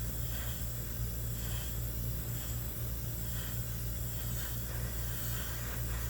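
Primer sprayed in thin coats onto a resin studio-scale X-Wing fuselage part, a close, continuous airy hiss with faint pulsing bursts over a low hum.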